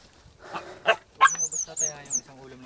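A dog close by gives a few short yelping barks that rise into a high whine.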